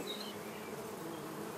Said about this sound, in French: Voici un de nos cadres de couvée,